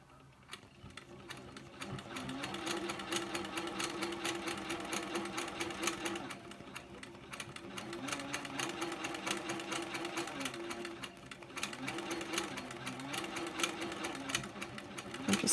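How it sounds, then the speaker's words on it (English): A sewing machine stitches basket-weave quilting lines in sustained runs of rapid, even whirring, pausing briefly between passes before starting again; close and loud with no talk. "I'm just going to stitch these lines however we can get them"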